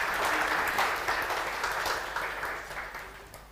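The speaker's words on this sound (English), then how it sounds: "Please, round of applause." An audience at a scientific conference session claps in a sustained round of applause, steady and fairly loud at first, then gradually thinning and fading toward the end.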